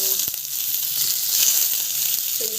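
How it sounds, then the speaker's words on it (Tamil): Mustard seeds, cumin, curry leaves, green chili and onion hit hot oil together, producing a steady bright sizzle with a couple of soft knocks, close and fairly loud. "ஸோ கடுகு, சீரகம், ஸோ கருவேப்பிலை, பச்சை மிளகா அண்ட் ஆனியன் 3 ஒன்றா போட்டுக்கலாம்."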